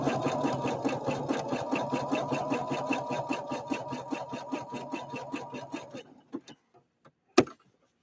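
A Husqvarna Viking Opal 650 sewing machine stitches a small zigzag in a steady rapid rhythm of needle strokes for about six seconds, then stops, followed by a few isolated clicks and one sharp knock.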